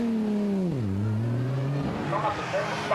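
GT race cars in the 24 Hours of Spa endurance race, one engine rising then dropping in pitch as it passes close, with other car noise behind and a commentator talking over it.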